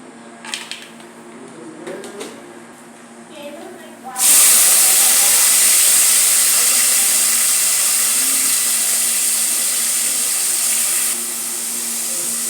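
Cumin seeds and peanuts dropped into hot oil for tempering, a sudden loud sizzling hiss that bursts in and holds steady, after quieter kitchen clatter and voices at the start.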